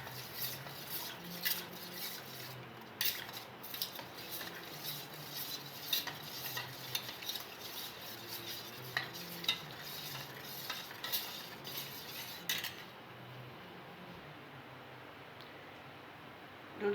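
Custard powder being stirred gradually into milk in a pot, a steady scraping and clinking of a spoon against the pan that runs throughout, with faint background hiss and no talk.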